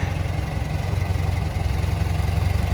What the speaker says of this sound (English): you can just hear it idling by there